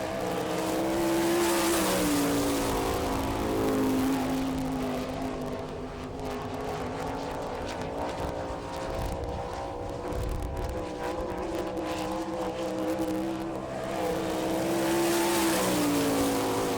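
Sprint race car lapping a dirt oval at Rossburg, Ohio during an All Star Circuit of Champions event, its engine droning loud and steady with pitch rising and falling through the turns across the whole run.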